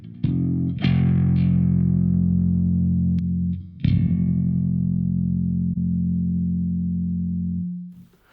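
Bass guitar played through a Two Notes Cab M+ cab simulator, with a few plucked notes sustaining as a deep, slightly distorted low tone for several seconds before cutting off, close and without talking.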